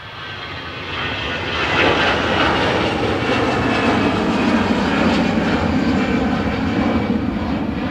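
A Ryanair jet airliner lines up on runway 28 right at Dublin Airport, its engines building into a loud, steady roar with broadband rumble that holds for several seconds, nearby and without talk.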